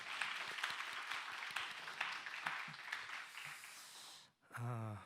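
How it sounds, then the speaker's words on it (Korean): Congregation applauding during a Sunday morning church service, a steady wash of many hands clapping for about four seconds before stopping abruptly, followed by a brief sung or spoken tone. "하나님께 영광의 박수 올려드립시다."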